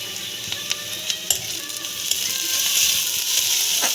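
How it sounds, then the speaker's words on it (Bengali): Onion frying in oil with ginger-garlic paste, for a Bengali-style stuffed pointed gourd dish, gives a steady close sizzle with scattered clicks of stirring, growing denser and louder toward the end. "এতে আমি একটু আদা রসুনের পেস্ট দিয়ে দিচ্ছি।"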